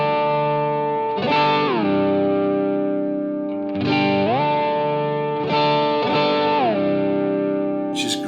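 Electric guitar through a Line 6 Helix quick whammy pitch effect sounds as distorted, chorused sustained chords that repeatedly swoop up in pitch and then settle, three or four times in a row, with no talking.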